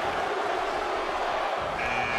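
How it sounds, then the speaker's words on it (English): A crowd in the WWE 2K18 wrestling video game roars as a dense, steady, loud wash of voices, with no breaks across the stretch. "Listen to this crowd count the next one in."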